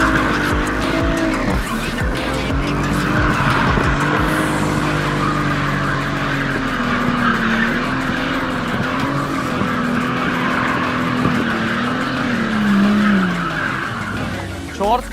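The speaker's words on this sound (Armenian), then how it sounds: "Չորս քաշողը միացած ավելի հետաքրքիր է ֆրցնելը" A car drifts with four-wheel drive engaged, its tires squealing in long, wavering shrieks over a loud, continuous engine roar, close and sustained throughout.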